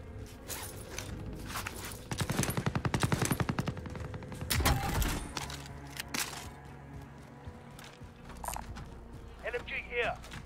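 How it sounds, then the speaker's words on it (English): Machine gun fire in Call of Duty: Warzone, a rapid burst of automatic shots around the middle with scattered footsteps and gear rustle, while squad voices talk over it. "Machine gun."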